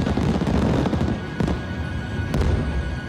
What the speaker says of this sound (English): They were fireworks, like the ones we set off on New Year's Eve.